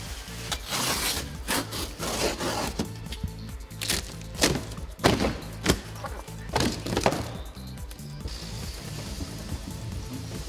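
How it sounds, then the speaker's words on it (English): A sharp knife slices open the packaging of a TWIN BUSCH TW X-93 tyre changer shipped on a wooden pallet, making loud, close, rhythmic scraping and rasping strokes with short pauses between cuts. "Open the package with a sharp knife."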